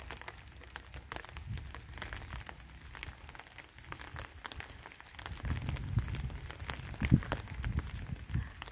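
Autumn rain falls outdoors in a garden, a faint, steady patter of scattered drops that grows somewhat denser and louder toward the end.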